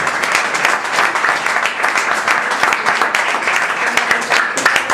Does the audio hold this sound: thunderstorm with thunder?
no